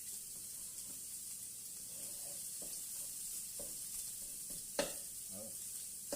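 Quiet, steady sizzling of food frying in a pan, a constant hiss with occasional soft scrapes and clinks.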